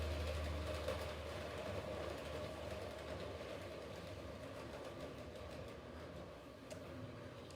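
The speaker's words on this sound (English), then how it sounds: "Let's keep the train going." A model train runs along its track, a faint steady rolling hum with light rhythmic clicking over the rails, continuous and unbroken with no talking.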